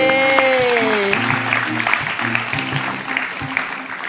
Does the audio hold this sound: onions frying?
no